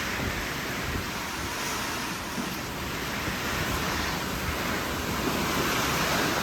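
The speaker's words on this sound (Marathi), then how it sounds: "एवढी हवा सुटली, असलं वारं सुटले" Strong wind roars through a rainstorm at a farm, a loud, dense, unbroken rushing noise with gusty swells, close to the microphone and without any voices.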